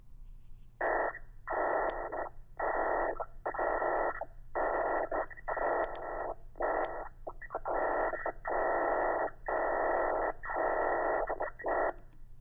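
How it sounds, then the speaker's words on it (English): Eerie electronic tones from sonified Saturn radio emissions pulse in repeated bursts, a band of buzzing radio-like noise switching on and off in an irregular rhythm over a low hum. "Can sonification exist for a planet's rotation? Amazingly, yes."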